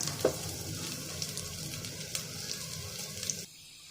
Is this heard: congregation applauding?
no